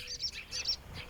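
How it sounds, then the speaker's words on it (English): Birds sing at dawn on a hot summer morning in European countryside, giving soft, repeated high chirps in short bursts at a moderate distance over a faint background hiss. "Some birds still sing to defend their home range"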